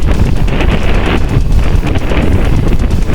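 Steady wind roars across a sailboat under way at night along the Gaspésie coast, a loud, continuous broadband rush with gusty swells and no talk.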